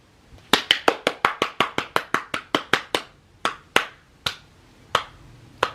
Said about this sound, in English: Is that a slow applause?